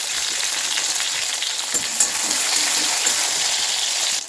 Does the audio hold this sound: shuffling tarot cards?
no